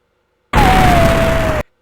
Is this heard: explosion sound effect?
yes